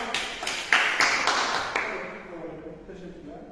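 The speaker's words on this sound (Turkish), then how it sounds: "Teşekkür ederiz Buket'e alkış." A classroom claps for a student named Buket during a probability and statistics lesson, a short scattered burst of hand claps that tapers off within about two seconds, with faint voices around it.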